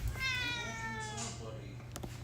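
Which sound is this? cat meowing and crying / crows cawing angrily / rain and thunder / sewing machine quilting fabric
cat meowing and crying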